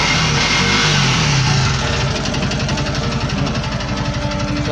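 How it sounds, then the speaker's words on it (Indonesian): A motor engine runs loud and close, its throbbing drone shifting in pitch as it is revved up and held, steady without pauses. "kita buka lagi mesinnya nih"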